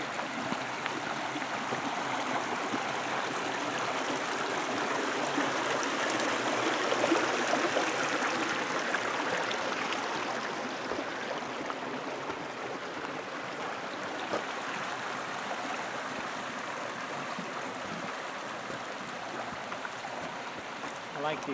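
Cow Creek flows steadily along the Lumpy Ridge loop trail, a continuous broadband rush of stream water heard close by and fairly even throughout, easing slightly partway through.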